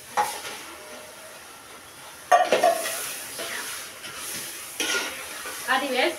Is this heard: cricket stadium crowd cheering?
no